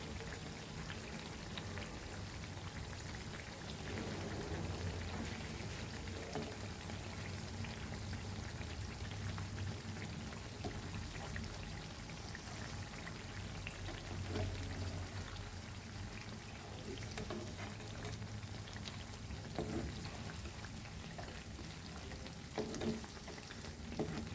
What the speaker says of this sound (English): And same way we'll fry the remaining one.